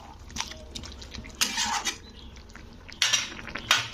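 A utensil stirs vegetables boiling in a pot of water, with a soft bubbling bed broken by three short bursts of scraping and clattering against the pot, close and without talk.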